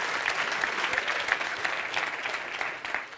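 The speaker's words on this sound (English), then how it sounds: "So a big round of applause for everybody." An audience applauds panel speakers at a venture capital discussion at Nyenrode Business University, a steady crowd-wide patter of many hands holding at moderate level and fading slightly toward the end.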